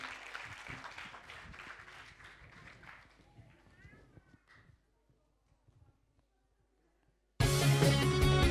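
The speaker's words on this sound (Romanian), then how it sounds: "Puteți să aveți aplauze mai hotărâte?" Loud burst of audience applause at a children's light-music song contest, for the 9–11 age group, erupting suddenly and filling the end after a quiet stretch that follows announcer talk.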